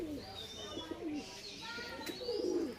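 A male pigeon coos in soft, repeated low throaty phrases close by, with a few higher chirps from other birds in the loft behind it.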